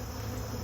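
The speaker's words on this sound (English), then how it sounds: "So there's a lot more bees in this side of the box" Honeybees crowded in one side of an overwintering nuc box, a close, steady buzzing hum that is brief and continuous.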